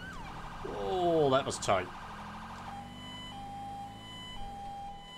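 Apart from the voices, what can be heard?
police sirens in a video game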